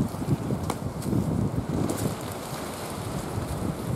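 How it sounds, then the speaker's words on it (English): Steady wind gusts across an exposed ridge campsite in Fiordland during a red stag and wapiti roar hunt, a continuous rushing buffet with low rumbling pressure, no talk. "There's a fair bit of wind around, as you can hear."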